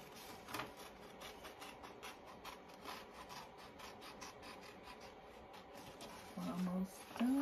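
A Cricut cutting machine works through a large print with a steady, faint mechanical whir and rhythmic rasping scrape, continuous and even, with a slight rise near the end.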